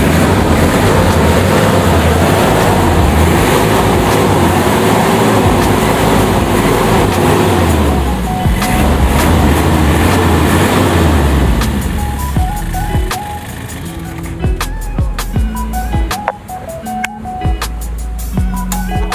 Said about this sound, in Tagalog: napakita namin to yung ating Mazda Bongo WL engine